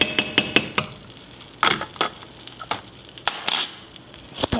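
Christmas morning pancakes sizzle in a frying pan, a close hissing fry punctuated by frequent sharp clinks and taps of a utensil against the pan, with no talking.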